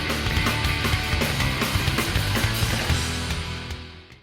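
A dense, loud rock passage from an album, with full band instrumentation, driving drums and sustained guitars playing continuously before fading slightly at the close.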